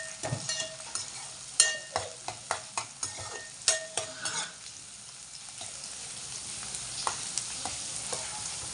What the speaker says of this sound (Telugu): పోపు గింజలు కూడా వేడవుతున్నాయి